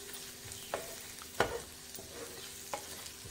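Dry spices roasting in a pan for matar paneer, a faint low sizzle broken by a few sharp spoon scrapes and clinks against the pan.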